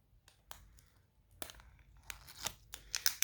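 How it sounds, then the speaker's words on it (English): Nail set packaging ripped open by hand, a sequence of crisp tearing and crinkling bursts that grow denser and louder toward the end, close and clear with no talking. "just rip open the set"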